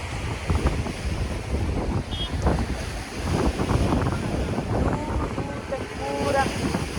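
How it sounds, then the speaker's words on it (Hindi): Sea wind gusting steadily across a microphone at Ram Setu, a broad continuous roar with a faint wash of waves beneath, persisting throughout with no pause. "ठंडी हवा चल रही है"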